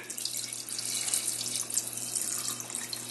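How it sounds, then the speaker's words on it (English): Water runs steadily from a tap into a pot of Puerto Rican beef stew (carne guisada) with meat inside, a continuous close hiss-like pour with no speech. "And then I add water."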